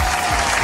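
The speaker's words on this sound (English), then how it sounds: "It's the fake clap." Fake applause sound effect, a short loud burst of crowd clapping that fills the whole moment and cuts off abruptly.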